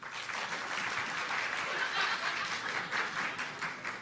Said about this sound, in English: By applause for Jane Austen